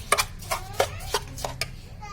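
Yogurt (dahi) with sugar being beaten and mixed in a bowl, heard as a series of short, evenly spaced taps and scrapes, moderately close, over a low background hum.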